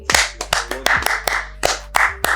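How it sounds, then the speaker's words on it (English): A few people clap their hands in a loose, uneven rhythm, around a dozen sharp close claps spread across a couple of seconds. "let's clap for the name"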